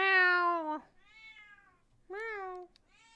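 A house cat meows twice, close and clear: a long, loud first cry, then a fainter one, with a quiet gap before a second full meow near the end.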